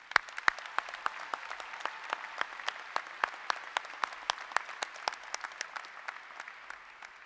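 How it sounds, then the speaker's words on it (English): Sparse audience applause for special guests at a college commencement, individual claps distinct and evenly spaced, light and somewhat distant in a large hall. "Please join me in applauding these special guests."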